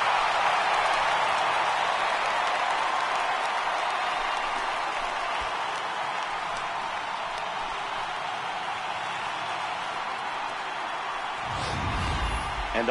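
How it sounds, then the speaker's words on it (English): A home baseball crowd cheers and applauds steadily after a solo home run by Cody Bellinger in the bottom of the 8th, Rockies vs Dodgers, a broad sustained roar that holds throughout with a low thump near the end. "the home crowd has really come to life here in the bottom of the 8th"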